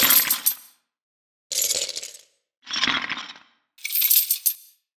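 Layered recordings of a bank coin counter machine, used as a weapon's rotating mechanism, come through in four separate bursts of bright metallic clattering and jingling, each under a second long, with short silent gaps between them.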